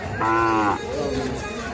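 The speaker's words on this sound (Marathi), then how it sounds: "कुठल्या बैलाच आहे वासरू" A Khillar calf at a cattle market in Sangola gives a single short, loud moo close by, followed by a softer trailing bellow.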